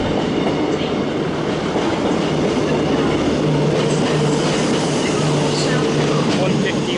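A Northern Class 150 diesel unit, number 15122, rolls loudly through Manchester Piccadilly station with a steady engine rumble, wheel noise and a low droning tone, while people talk nearby.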